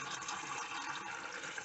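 Water is poured into a pot of chicken stock in a steady, full splashing gush that runs continuously and close, with no talking.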